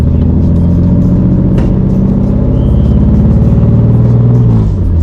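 A Datsun Fairlady sports car from the 1970s revs its engine loudly and steadily at close range, a dense, continuous mechanical roar that holds for several seconds with no one talking.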